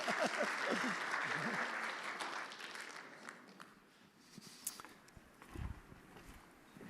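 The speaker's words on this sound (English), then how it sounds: "I'll give Cédric a clap." A conference audience claps in welcome for a speaker, loud and dense at first, then thinning out and fading to a few scattered claps and faint room noise.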